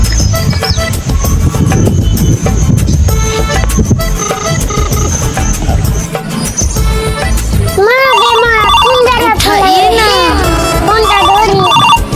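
A melodic phone ringtone plays loudly over busy background music, its warbling electronic tones repeating toward the end.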